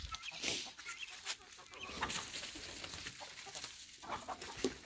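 Chickens cluck and squawk in scattered bursts at moderate distance, with a restless, agitated flock chatter throughout; a rooster is among them.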